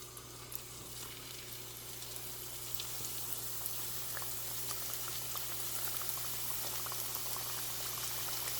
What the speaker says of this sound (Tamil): இப்போ பாருங்கள் ஃப்ரெண்ட்ஸ், நல்லா எண்ணெய் நல்லா கொதிச்சிட்டுது